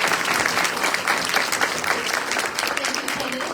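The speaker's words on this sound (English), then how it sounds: "Let's give them a round of applause." A town hall audience claps for the candidates, loud and sustained, with dense, even applause that continues throughout with no break.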